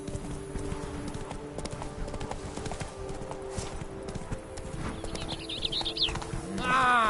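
Horse hooves clip-clopping in a steady gallop in The Witcher 3, close and continuous, with a whinny-like rise near the end and faint game ambience underneath.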